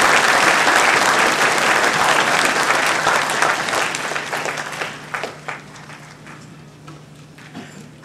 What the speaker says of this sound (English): Can we please have another round of applause for this beautiful representation of Muslim Christian